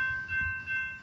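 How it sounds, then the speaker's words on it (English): Northbound CSX freight train passing on the Henderson subdivision in Springfield, Tennessee, a steady rumble and rail noise with a sustained horn-like tone throughout, fairly close and continuous. "we got northbound CSX. Springfield, Tennessee on the Henderson sub."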